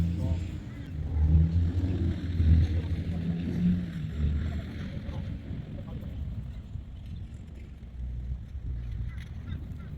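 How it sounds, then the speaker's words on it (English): Strong wind buffets the microphone at a park where a foam chuck glider converted to RC is being flown, a steady low rumble with gusty swells throughout. "Oh, the wind is strong."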